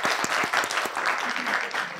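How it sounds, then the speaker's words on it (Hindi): Audience applause at a talk-show discussion, a steady dense patter of clapping from a gathered crowd filling the room, fairly close and continuous. "वेरी गुड, थैंक यू, आपके लिए ताली"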